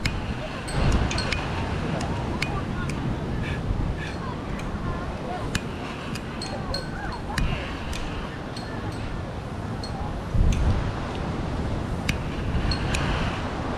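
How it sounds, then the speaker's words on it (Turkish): Strong wind gusts buffet the microphone outdoors in a constant low roar, with occasional faint clicks and no clear talking. "rüzgar bu tarafa doğru esiyor"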